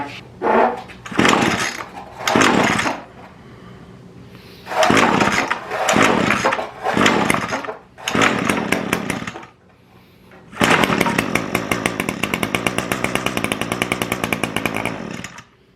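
An Echo SRM 225 string trimmer's two-stroke engine revving in loud repeated bursts with short idle gaps, then holding a long high-pitched buzzing run, heard up close with no talk.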